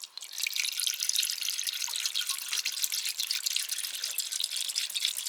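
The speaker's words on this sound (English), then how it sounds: "we're gonna add the vinegar. And here is the vinegar that's gonna go into it." Vinegar poured into a pickling jar in a Japanese countryside kitchen, a steady trickling splash of liquid heard close and alone for several seconds.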